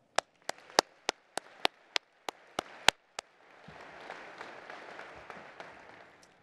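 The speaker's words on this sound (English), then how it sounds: "I'd like to take this time to give them all a round of applause." Scattered claps start the applause for award finalists at a farm organization's young farmers and ranchers presentation, then it swells into steady audience clapping, moderately distant in a hall.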